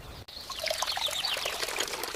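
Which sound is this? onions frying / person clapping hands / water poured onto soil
water poured onto soil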